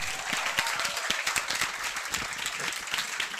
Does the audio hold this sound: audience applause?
yes